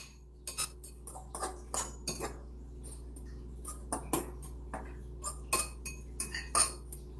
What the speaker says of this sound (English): I'm just going to break up that egg and mix it through the cheese.